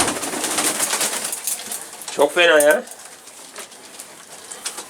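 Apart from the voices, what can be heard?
pigeons cooing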